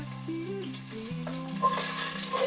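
Onion and garlic sauté in a pan with a soft, steady sizzle and light stirring, while tonal background sounds drift underneath, close and fairly quiet throughout.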